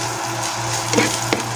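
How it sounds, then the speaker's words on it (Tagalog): Garlic and onion sautéing in a pan for ginataang pusit, a steady sizzle with a couple of brief stirring clatters, with no talking. "Gisa natin yung bawang, sibuyas,"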